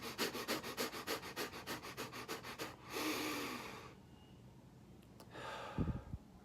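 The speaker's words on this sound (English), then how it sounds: "Just do a rapid breathing technique." Rapid bellows breathing, roughly a dozen quick rhythmic forceful sniffs through the nose, followed by a long exhale and then quiet with a faint thump near the end, close and without talk.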